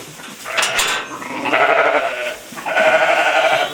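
Sheep bleat close by in a farmyard during lambing, two long wavering calls separated by a short pause, with some rustling around them.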